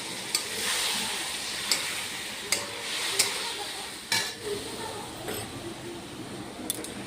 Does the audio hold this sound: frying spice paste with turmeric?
yes